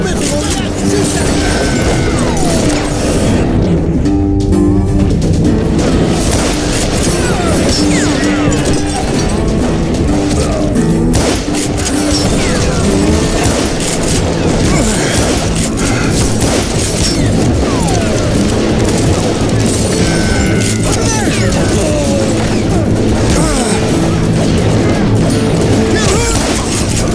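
Gunfire rings out in the Western shooter game Call of Juarez Gunslinger, with rapid shots and crashes over a dense, constant layer of game noise and music, loud and unbroken throughout.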